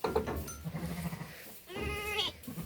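Ewes at feeding time on a farm, with a few soft, low calls and then one clear, drawn-out bleat from a sheep nearby. The sounds are fairly quiet, with no speech.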